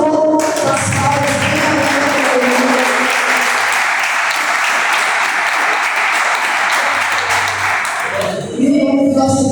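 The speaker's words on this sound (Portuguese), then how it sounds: "Aplauda o Senhor das palmas" Congregation applauding during an evening church service, loud continuous clapping that carries on steadily with a sustained tone beneath, then briefly dips and resumes near the end.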